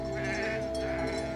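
Sheep bleat loudly and continuously nearby while mastiff dogs herd the flock, the calls overlapping into a sustained wavering chorus.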